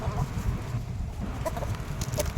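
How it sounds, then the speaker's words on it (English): Backyard chickens, hens and a large rooster, cluck and chatter busily as they are fed salad scraps, a continuous close flock murmur with occasional sharper calls. "Now let's go out to the chickens and feed them the scraps from our salad."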